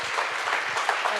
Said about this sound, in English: Yes, give Carolyn a round of applause for that.